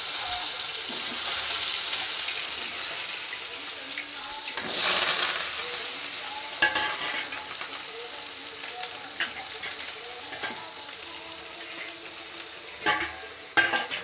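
Mustard and cumin seeds sizzle in hot oil for a plantain stir-fry, a steady hiss with a brief louder surge and scattered light pops and clinks.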